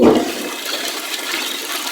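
A toilet flushes loudly and close up, a sudden rushing gush of water settling into a steady hiss, with nothing else heard.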